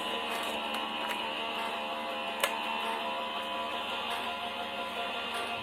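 A cutting machine runs steadily and close by with a continuous mechanical whir and a single sharp click midway, no voices present.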